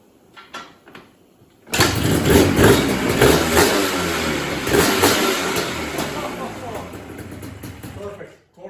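A repaired ATV engine cranks and starts, then revs loudly several times and keeps running close by, with voices talking over it.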